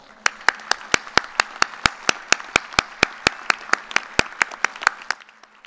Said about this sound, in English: give your loved ones a big and well-deserved round of applause